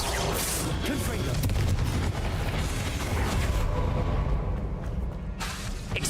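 Spell blasts from the Hogwarts Legacy video game, specifically the Confringo fire spell, boom in a dense, loud burst of rumbling explosions that holds steady for several seconds, then thins slightly toward the end.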